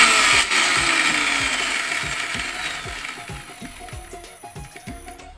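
A 1500-1600 watt mixer grinder whirs loudly while grinding garlic and ginger into paste, its motor pitch sliding down as it winds, with rhythmic knocking of the jar in the low end.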